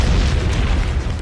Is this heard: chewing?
no